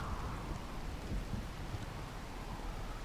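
Steady rain falls in the video game Rimworld, a quiet, continuous hiss of rainfall with a soft low rumble beneath it.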